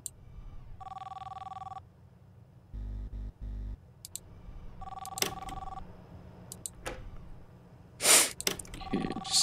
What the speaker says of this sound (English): Can you stop ringing my phone?